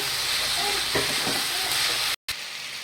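Chicken and pasta sizzle steadily in a pan as they are stirred with soy sauce. Dense, close frying noise runs throughout, with scraping stir sounds, then breaks off briefly just before the end.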